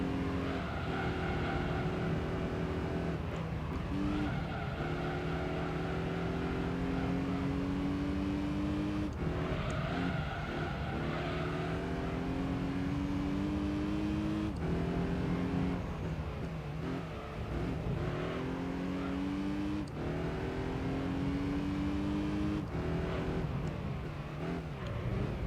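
Racing car engine in the video game Gran Turismo 3, a front-wheel-drive car on a race circuit, droning steadily and loud throughout with repeated rising revs and gear shifts, no talk over it.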